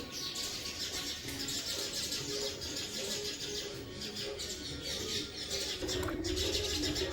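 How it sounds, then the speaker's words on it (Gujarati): Many sparrows chirp busily in the background, a constant scatter of small high tweets at moderate distance, with faint cooing mixed in. "ચકલીઓનો અવાજ સાંભળી શકો છો તમે"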